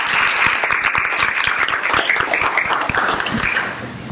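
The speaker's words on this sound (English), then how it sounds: "Round of applause." A crowd at a school district board of education meeting claps in steady applause, dense and lively, fading slightly toward the end.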